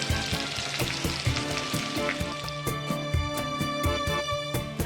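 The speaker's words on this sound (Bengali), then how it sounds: "এবার কাঁচা লঙ্কাগুলো দিয়ে দেবো," Green chillies and pumpkin frying in a pan, giving a steady close crackling sizzle with rhythmic tapping of a spatula as the pieces are stirred, no voices present.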